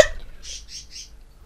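A bird in the video game Minecraft gives three quick, bright chirps in a row, close and fairly loud, after a short knock at the start.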